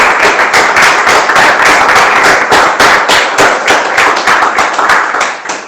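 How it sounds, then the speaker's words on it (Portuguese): Loud, dense applause from a church congregation during a Christmas service, with rapid overlapping claps sustained close by and no voices over it. "Você pode aplaudir o Senhor Jesus?"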